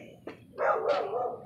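A neighbouring dog barks twice, a short sharp yap followed by a longer, louder bark, heard at moderate distance next to a garage with no talk over it.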